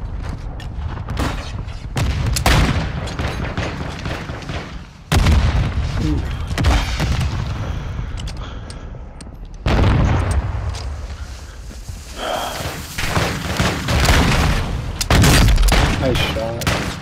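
Dense gunfire and booming explosions from the video game Call of Duty: Modern Warfare II, loud and near, with sharp bursts and heavy blasts in rapid succession under a steady background of battle noise.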